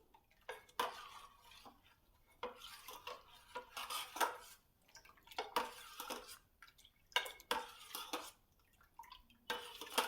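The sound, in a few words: mixing kadhi ingredients in a pot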